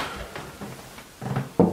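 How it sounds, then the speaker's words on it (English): Knuckles rap on a bedroom door in a house with a few soft, spaced knocks, then two louder, sharper knocks close by near the end. "I'm knocking his door"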